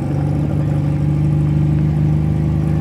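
A 1962 TVR sports car engine running steadily nearby, a loud, even mechanical drone with a strong low hum and no clear rise in revs, heard alone without any voices.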